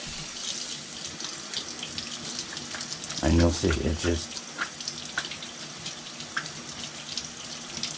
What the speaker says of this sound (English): let me run this under some water